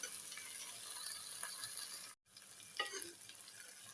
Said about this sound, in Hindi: इस तरह करके ये घी में फ्राई होती रहेंगी।